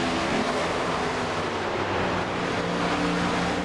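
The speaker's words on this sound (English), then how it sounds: "I know you hear those cars rolling around the track" NASCAR Cup Series race cars in the iRacing video game run at Monza as a steady, loud, continuous engine roar with no break, the sound of a pack circling the track.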